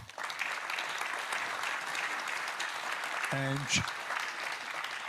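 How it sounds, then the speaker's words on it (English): At the CETEF'22 forum, an audience applauds a professor with steady, full-room clapping. A voice speaks briefly under the applause near the end. "So big applause for Professor."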